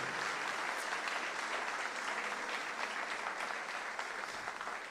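Church congregation applauding steadily for several seconds, a dense even wash of clapping that fills the room at moderate distance without pause.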